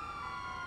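A brief, steady electronic siren tone from a video game ambulance wails at moderate volume, with no voices present.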